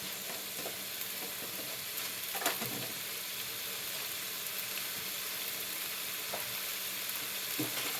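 Mongolian-style pork sizzles steadily as it fries in a hot pan, with a few soft scrapes and clinks from stirring breaking through the continuous crackle.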